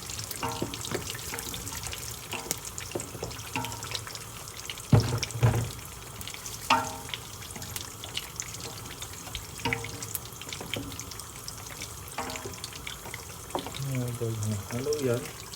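Beef cubes for kare-kare being stirred in a cooking pot, with steady wet sizzling and scraping broken by a few louder clanks and occasional nearby voices.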